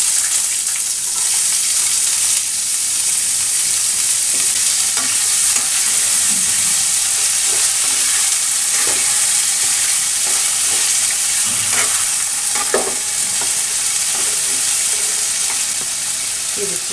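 Long radish strips sizzling steadily in hot oil in a pan for a Bengali dish, with repeated scrapes and clinks of stirring throughout, close and continuous.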